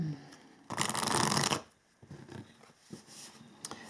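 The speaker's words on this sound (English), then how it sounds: "So I'm going to pull some tarot cards first. Shuffle a little bit." Tarot cards shuffled by hand during a spiritual reading, a dense papery riffle burst of under a second, followed by softer scattered card slides and taps, close and alone.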